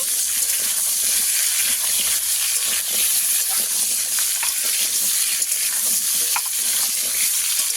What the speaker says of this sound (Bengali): কুমড়ো আর আলুটাকে আবারও একটু ভেজে নেব।